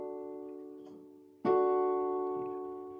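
Keyboard notes ring out in a beginner's lesson, one soft tone followed by a sharper struck note that sustains and slowly decays.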